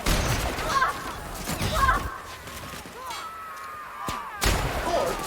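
Video game gunshots: a few sharp, loud bursts of firing separated by quieter gaps, with a voice speaking faintly underneath.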